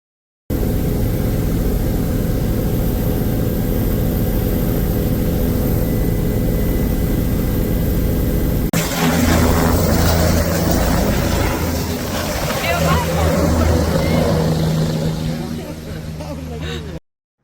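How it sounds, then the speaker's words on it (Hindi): Loud, constant engine roar and rotor drone inside a helicopter cabin in flight between Kedarnath and Badrinath, shifting to a rougher, heavier rumble halfway through with voices faintly underneath. "जब हेलीकॉप्टर के अंदर बैठते हैं तो कैसा साउंड लगता है"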